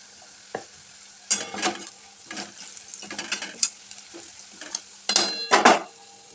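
Turmeric and salt sizzle in hot oil for a Marathi dry potato dish, with a spoon stirring and scraping the pan in several loud bursts between quieter spells.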